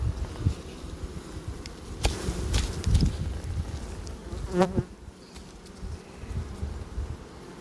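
Honeybees buzz around an open hive during an inspection, a dense, continuous drone close by, with a few individual bees flying past the listener and some light handling noise.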